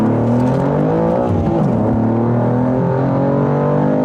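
Tuned BMW S58 engine in a G87 M2 or G80 M3 accelerating hard in second gear with traction control off, a loud continuous rising engine roar with climbing harmonics and no talk.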